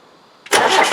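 A 1991 2.5 naturally aspirated engine in an ex-MOD 90 catches at once on the starter and bursts into a loud, close roar that carries on running.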